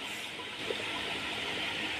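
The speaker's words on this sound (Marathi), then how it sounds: "चुलीवरून उतरविल्यानंतरही ही बघा कशी उकळी येते ह्या भाजीला." Handi mutton keeps bubbling in a hot pot after it comes off the stove. The low, continuous seething and simmering holds steady for two seconds, close and moderately loud.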